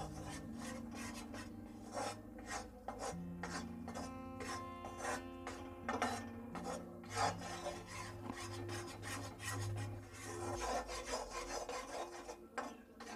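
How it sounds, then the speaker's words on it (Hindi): A spoon scrapes and rubs steadily against a pan as gram flour (besan) roasts in desi ghee for laddu. The close, quiet rasping strokes repeat in an uneven rhythm under a faint background hum. "इसको हम बीच बीच में ऐसे ही चलाते रहेंगे जिससे कि बेसन नीचे चिपके नहीं"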